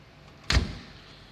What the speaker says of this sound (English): It's quite easy to close the door.